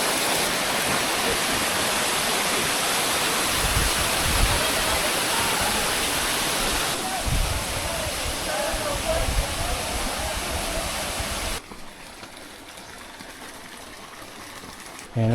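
A waterfall in Najrab, Afghanistan roars with a dense, continuous rush of falling water, loud and close at first, then softer and more distant in the final seconds.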